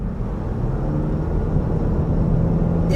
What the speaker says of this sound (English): You can hear that like fluttering sound under the hood there.